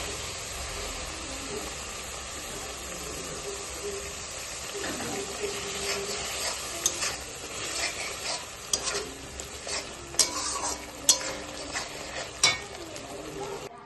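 Fried masala sizzles in a pan as a spoon stirs it, a steady hiss under a run of sharper scraping clacks that grow louder and more frequent toward the end.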